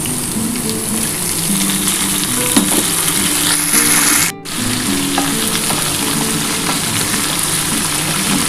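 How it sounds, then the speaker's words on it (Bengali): Potatoes already fried red sizzle loudly in a pan as chopped bottle gourd is added and stirred, a steady, close frying hiss with brief stirring scrapes. "আলুটা লাল লাল করে ভাজা হয়ে গেছে এবার এই লাউটা দিয়ে দিলাম"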